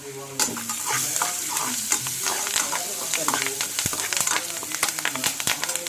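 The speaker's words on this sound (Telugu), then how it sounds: "కొంచెం కరివేపాకు వేసుకోండి." Curry leaves frying in hot oil with tempering seeds for a broad bean and tomato curry. A close, dense, steady crackle of sharp pops and spits continues throughout with no talking.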